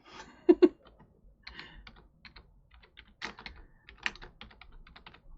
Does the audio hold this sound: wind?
no